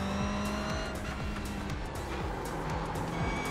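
Race car tires squealing under braking for a corner in iRacing, sustained and loud over a continuous roaring engine, with repeated short gear-shift sweeps throughout.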